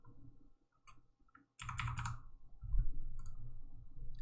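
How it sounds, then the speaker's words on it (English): Typing on a computer keyboard while adjusting material settings in software: a few scattered taps, then a quick, close burst of key clicks followed by a couple more, with no talking. "I'll just type it in."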